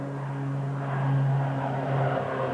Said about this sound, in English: The 2 OV-10s approach the drop zone, barely clearing the trees.